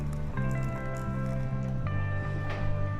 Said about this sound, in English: after 30 seconds, you're going to add the rest of the water